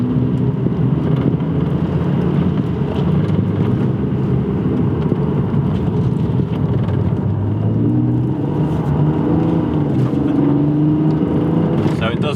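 Toyota Supra with a 2JZ engine and individual throttle bodies roaring loudly through a tunnel, a sustained, booming engine drone with rising and falling revs that fills the whole stretch, echoing throughout.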